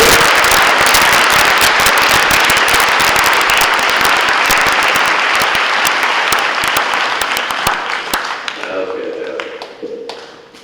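Loud, dense applause from an audience at a school National Junior Honor Society induction ceremony, sustained for about eight seconds before thinning out and fading, with a few scattered claps at the end.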